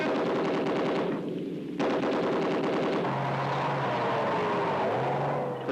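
Rapid machine gun bursts from tanks and infantry in a military training exercise, loud sustained rattling fire with a short pause, then continuing over the drone of engines and tracked vehicles.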